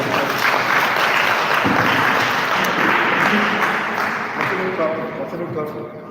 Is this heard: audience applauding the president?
yes